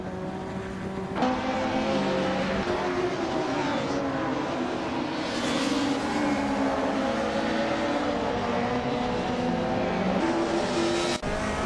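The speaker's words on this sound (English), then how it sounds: "MOBS is driving a 1991 Honda Civic SIR2" A 1991 Honda Civic SiR2 racing among other race cars, with continuous loud engine drone and shifting revs as cars surge and pass close by, no pauses.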